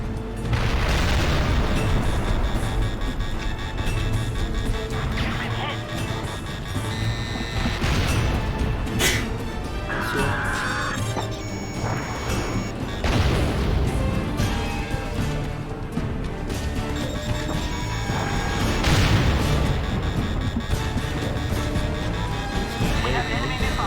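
Missile blasts and booming explosions burst repeatedly over constant jet-engine roar in the aerial combat game Ace Combat: Joint Assault, with radio chatter and alert tones woven through the din.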